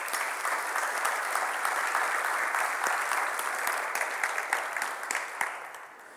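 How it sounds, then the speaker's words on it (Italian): An audience at a national basketball coaching clinic in Italy claps for the young players, a steady, full round of applause that continues for several seconds and then thins and fades toward the end. "Innanzitutto ringrazio i ragazzi, bravissimi, un applauso."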